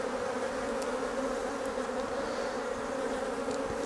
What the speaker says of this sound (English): I'll just brush these bees off here